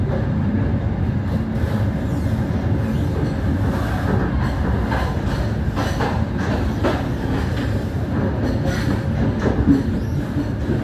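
Argo Muria night passenger train running from Jakarta to Semarang, a steady loud rumble of rolling wheels and carriage noise with faint rhythmic clatter throughout, no talking.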